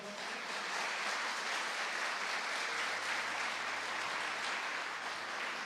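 A church congregation claps together in dense, steady applause that fills the whole stretch at an even, loud level.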